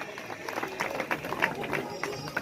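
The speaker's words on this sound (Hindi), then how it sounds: "जोरदार तालियां इस छोटी सी बालिका के लिए" A crowd applauds a little girl at an outdoor Rajasthan water festival held beside a pond, with a dense steady patter of clapping running under an announcer's amplified voice.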